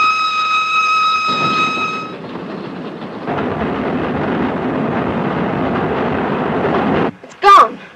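From inside a 1938-era passenger train, a steady rumbling clatter of the moving carriage fills most of the stretch after a sustained tone fades out, ending with a brief sharp shrill burst, with voices heard in places.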